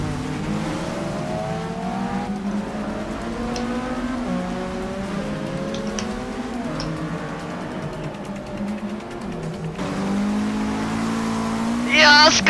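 Race car engines in Forza Motorsport 6 Apex wail and rise through gear changes, with tire noise and a constant layered roar of several cars, moderately loud throughout.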